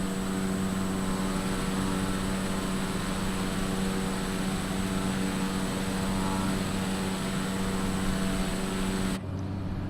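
A Cessna Caravan turboprop in Microsoft Flight Simulator 2020, flying in the Alaska backcountry, drones with a steady, loud engine and propeller hum and a constant high whine, unbroken until it cuts off abruptly near the end.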